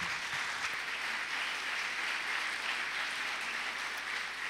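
A church audience applauds its parish priest with a dense, even wash of clapping that holds at a steady moderate level throughout, with no voices.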